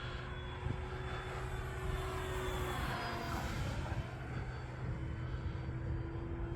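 An E-flite Focke-Wulf Fw 190A 1.5m RC model airplane flies overhead on a winter day, its electric motor holding a steady droning whine with a slight rise and fall as it banks through a figure eight, moderately distant and continuous.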